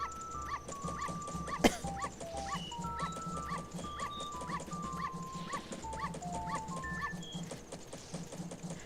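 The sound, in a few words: dog barking in video game Majora's Mask, Clock Town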